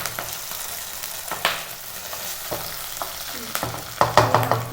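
Green chillies fry in a pan with an ongoing soft sizzle, broken by several sharp scraping stirs and clinks that grow louder and closer toward the end.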